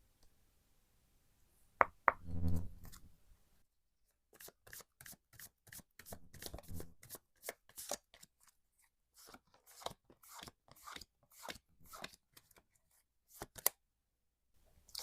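Tarot and Lenormand cards are shuffled together: a quick riffle, then a long run of crisp, close, even card flicks and taps with no talking.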